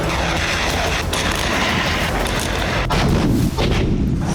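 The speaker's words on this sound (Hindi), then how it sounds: "डोनेस्क से ज़ैपोरिज़िया तक रूस की आर्टिलरी आग बरसा रही है" Russian artillery pounds away in the war in Ukraine, a dense roar of heavy firing with repeated sharp booms and rumbling, loud and continuous.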